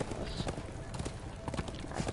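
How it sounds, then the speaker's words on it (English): Horse hooves clip-clop in a steady rhythm through the Darksiders video game, moderately loud over a dense soundtrack, with faint game voices mixed in. "This is no place for a horse."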